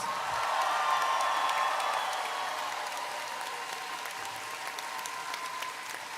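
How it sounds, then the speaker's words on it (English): Graduation ceremony audience for the Class of 2025 breaks into sustained applause mixed with cheers and whoops, a dense, steady wash of clapping that swells early and eases slightly while continuing throughout. "I'm also going to ask the deans to stand up and give them an even bigger cheer."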